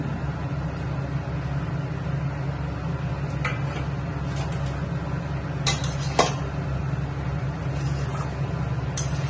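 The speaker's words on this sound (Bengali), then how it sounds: "এরপরে আমি দিয়ে দেবো এর মধ্যে ভেজে রাখা চিকেনটা। এরপরে দেবো ডিম।" Fried chicken and egg going into a pan of chowmein, heard as a steady low cooking rumble with scattered metallic clinks and scrapes of utensils against the pan, close by.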